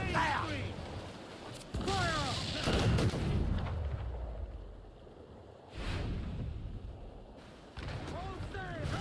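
Ship cannons firing in Assassin's Creed IV: Black Flag, several heavy booming shots spaced a few seconds apart, with crew members shouting over the volleys.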